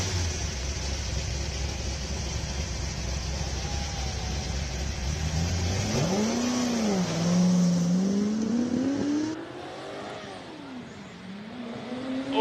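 A 5.7-litre Lola T70 race car from 1984 drives at a classic car event in Cape Town. Its engine drones steadily, then rises and falls in pitch as it passes, fading toward the end.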